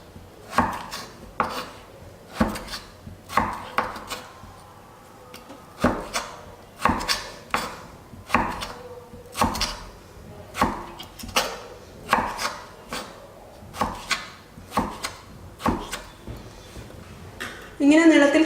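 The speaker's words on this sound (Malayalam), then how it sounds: "ഇതുപോലെ ബാക്കിയുള്ള പൊട്ടറ്റോസ് ഞാൻ ഇങ്ങനെ കട്ട് ചെയ്ത് ഐസ് വാട്ടറിലേക്ക് ഇട്ട് കൊടുക്കട്ടെ." A kitchen knife cuts potato slices lengthwise into French fry strips, making crisp, evenly paced chops on a cutting board, roughly one per second, repeated about sixteen times at close range.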